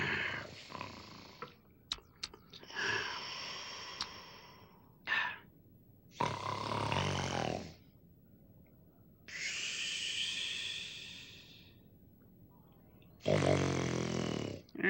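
Muppet character snoring at bedtime on Sesame Street, several long loud rasping breaths separated by quiet pauses, close and exaggerated, likely voiced by a performer imitating a snore.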